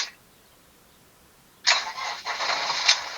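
A Rapido 7066C motorhome's diesel engine cranks after a quiet pause, catches with a burst and settles into a loud, close, steady running rumble with a brief dip partway.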